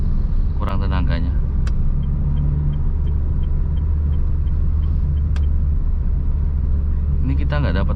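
A car engine lugs in fourth gear at 40 km/h, a heavy, steady low drone that holds flat throughout, with someone talking briefly at the start and again near the end over the strained rumble.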